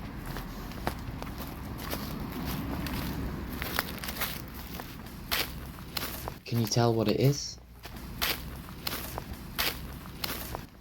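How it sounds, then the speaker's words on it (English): Footsteps crunch through dry leaves on a forest floor, a steady close walking rhythm, with a voice briefly speaking and a louder rustling burst midway. "This is the sound of walking across the forest floor on crunchy leaves."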